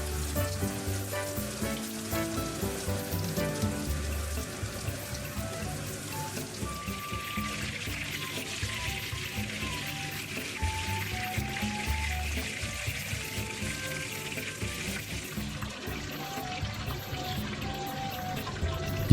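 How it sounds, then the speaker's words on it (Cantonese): Breaded chicken Milanese cutlets pan-frying in oil, a steady close crackling sizzle with fine popping throughout, occasional clinks of utensils, no talking. "將另外3塊都煎埋佢。"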